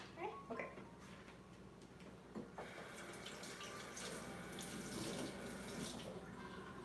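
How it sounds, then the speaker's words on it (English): Tap water runs steadily into a sink, rinsing out empty fish tins, a continuous splashing flow that swells louder partway through, with light clinks and knocks of the metal tins under the stream. "I was trying to rinse my like fish tins out"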